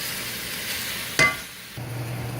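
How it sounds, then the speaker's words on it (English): Ground beef sizzles steadily as it browns in a pan, with one sharp scrape of a utensil breaking up the meat partway through and a low hum underneath. "Just keep stirring and breaking the beef up in smaller pieces"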